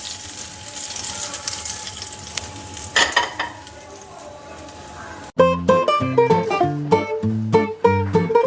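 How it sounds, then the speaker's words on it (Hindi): Hot tempering for Punjabi-style sarson ka saag, mustard greens, sizzles briefly as it is poured over them, a short crackling burst over faint background noise before music comes in. "इस फोड़न को साग के ऊपर इस तरह से डाल देंगे।"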